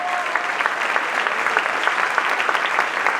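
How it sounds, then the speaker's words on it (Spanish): A church congregation applauds during a sermon, a steady, even wash of many hands clapping that fills the room for a few seconds. "Denle un aplauso al que viva."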